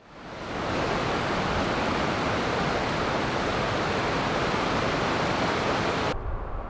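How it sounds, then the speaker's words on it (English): Hayes Creek Falls near Redstone, Colorado, a dense, steady roar of falling water that rises quickly and holds unbroken at close range before cutting off abruptly. "Hayes Creek falls between County Road 3 to Marble and the Redstone Historic District."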